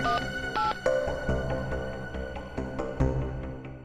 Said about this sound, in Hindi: फिर इसको फोन लगा।